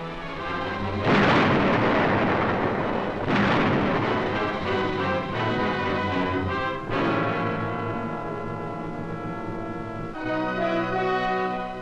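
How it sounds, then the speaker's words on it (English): High-explosive blasts tearing through Japanese fortress caves on Iwo Jima in 1945, three huge roaring detonations spaced several seconds apart, each decaying slowly beneath swelling orchestral music. "Their fortress caves, saturating the island, are wiped out by high explosive."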